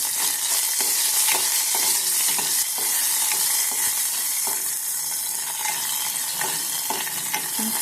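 Garlic, curry leaves, a piece of tamarind and dried chillies sizzle steadily in hot oil in a pan for a South Indian rasam tempering, a loud continuous crackle broken by occasional stirring scrapes, with no voices.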